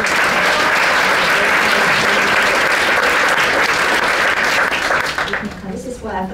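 Loud, sustained applause from an audience at the Shine a Light Awards 2011 ceremony, dense and steady, then thinning out and fading near the end as a voice begins to speak.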